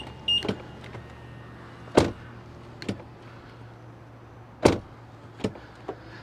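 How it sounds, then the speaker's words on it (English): A BMW X3 M40i car door opens and shuts with heavy thuds, a couple of times in succession, close by, with latch clicks between and quiet surroundings. "Now let's do a quick door sound check."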